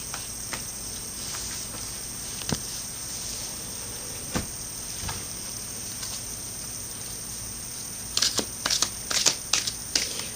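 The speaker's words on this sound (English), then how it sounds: "Shuffling the Crystal Mandala deck by Elena Fairchild." An oracle card deck is shuffled and riffled close by, soft papery flicks at first, then a quicker cluster of snaps toward the end over a steady background hiss.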